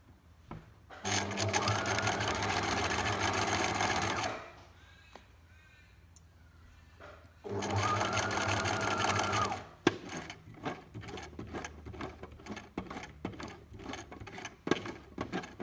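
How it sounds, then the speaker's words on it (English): A sewing machine stitches across the folded corner of an apron fabric in two loud sustained bursts, separated by a quiet pause for turning the work, followed by scattered handling clicks and taps. "You need to be right in the middle of the corner so that you still sew all folds of the fabric"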